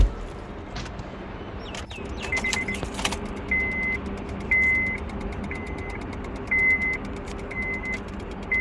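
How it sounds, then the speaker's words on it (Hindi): A Honda Civic relay clicks with the ignition on while the car fails to start after an engine swap. A few sharp clicks are followed by a steady, repeating faint electronic chirp over a quiet background hum, with no engine turning over. "रिले का साउंड आ रहा है, स्टार्ट नहीं हो रहा है।"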